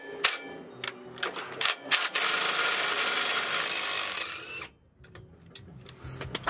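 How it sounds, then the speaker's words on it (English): A swivel gear wrench works on brake bolts of a Ford F350 backing plate, with quick ratcheting clicks and scrapes, then a sustained rough grinding rasp before a short pause and more sharp clicks. "I'm using actually a swivel socket, a swivel gear wrench"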